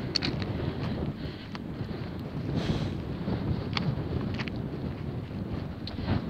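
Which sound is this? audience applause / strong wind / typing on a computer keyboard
strong wind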